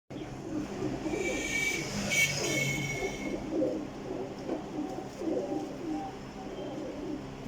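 Pigeons coo and call close by through the whole stretch, a steady low burbling bed with a brighter burst of wing or cage noise early on, alongside murmured background activity.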